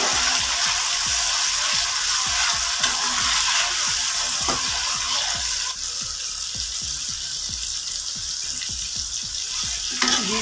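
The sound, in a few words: tomatoes frying in oil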